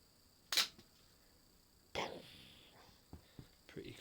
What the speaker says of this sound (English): Let's fire the missiles at this TIE fighter.